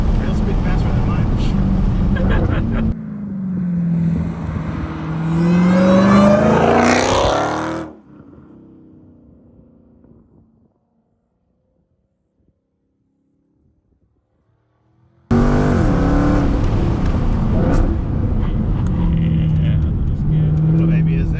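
A supercharged Dodge Hellcat accelerates hard, its loud engine roar topped by a rising blower whine over several seconds, then drops away to near silence before surging back just as loudly.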